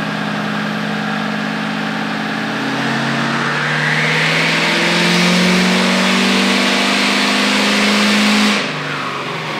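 A 2019 Ford F250 PowerStroke diesel running a 600 rwhp tune with a CP4.2 pump roars steadily on a dyno, revving hard and climbing in pitch for several seconds before suddenly backing off, loud and close with no talk.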